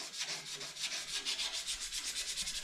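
Rhythmic back-and-forth sanding of primered parts from a 1932 roadster hot rod frame, a raspy scraping stroke repeating about five times a second, close and steady with no talk.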